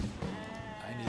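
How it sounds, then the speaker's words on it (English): A sheep bleats once, briefly, in the video game RuneScape, a short wavering cry at moderate volume. "I need to shear more sheep."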